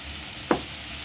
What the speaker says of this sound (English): So I'm gonna keep stirring this.